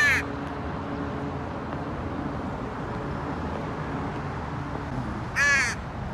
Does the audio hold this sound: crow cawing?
yes